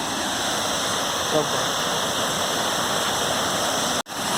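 Constant rushing water roars evenly from the nearby Gundicha Ghagi waterfall, broadband and unbroken, with a brief cutout near the end.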